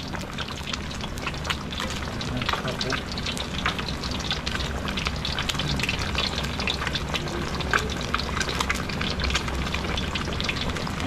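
Shrimp cooks in a pot of guava-based sinigang, giving a steady dense bubbling and sizzling hiss with fine crackles throughout, close by and without talk.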